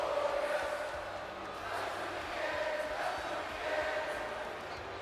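Arena crowd in WWE 2K20 during an NXT event in Brooklyn, a continuous wash of cheering and shouting with gentle swells, steady and fairly full throughout.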